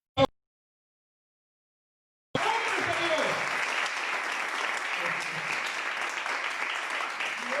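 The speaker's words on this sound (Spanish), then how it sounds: "Le damos un aplauso" After a brief silence, a church congregation breaks into applause for its pastors: sustained, full clapping from many hands that continues steadily to the end, with a faint voice just as it begins.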